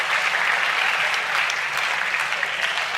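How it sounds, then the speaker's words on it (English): Students at a school talk clap together in a sustained, dense round of applause that stays steady and fairly loud for the whole stretch, with no voices over it. "Give yourself a round of applause"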